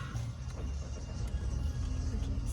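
Rental car being driven on a South African road as the driver presses the accelerator, a steady low engine and road rumble holding throughout, close and continuous with no voices.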